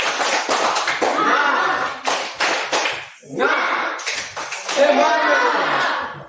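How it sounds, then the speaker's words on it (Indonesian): A group doing rhythmic spirit clapping in an Indonesian class or gathering, bursts of claps in a counted pattern mixed with a leader's voice and group chanting, fairly loud and close. "Tepuk semangat, ya. 1, 2, 3. Tepuk semangat."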